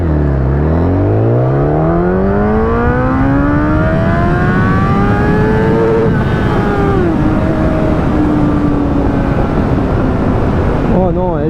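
A 2011 Kawasaki Ninja ZX-10R sport motorcycle with a roughly 200 hp engine revs hard and loud, its pitch climbing in long sweeping pulls and dropping at a gear change, while someone talks over it.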